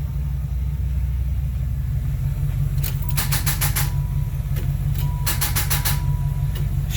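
A turbo LS-swapped Fleetwood cranks on a jump-start attempt, with two short bursts of rapid, rattling starter pulses over a steady low engine rumble from the donor car.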